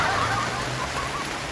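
Rain falls steadily in a short outdoor stretch, a dense even hiss of drops with no talk over it.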